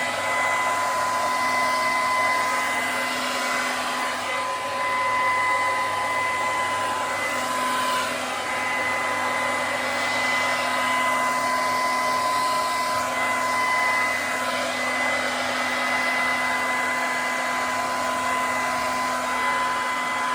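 A hair dryer on its low setting blows steadily and close for the whole stretch, a continuous airy whoosh with a faint motor whine, unbroken and with no voices.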